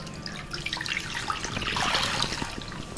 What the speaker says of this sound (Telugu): కంద ఉడకడానికి సరిపడా నీళ్లు వేసుకుందాం.